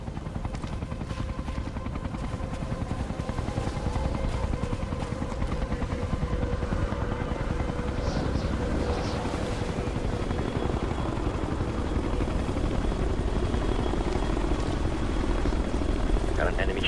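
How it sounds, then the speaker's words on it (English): Enemy helicopter in the video game Ghost Recon: Future Soldier, a steady loud rotor drone sustained throughout, with voices talking over it. "Got an enemy chopper here."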